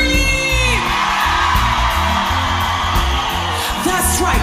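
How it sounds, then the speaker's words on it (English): A live reggae concert crowd of women at Paradiso, Amsterdam, screaming and whooping loudly and continuously, with a backing band playing beneath the cheering. "All the ladies of Amsterdam, can I hear you scream?"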